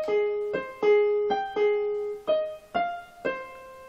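Piano chords from a pop song, a steady sequence of about seven sustained chords struck one after another, each with a clear attack and ringing decay, played alone at close range.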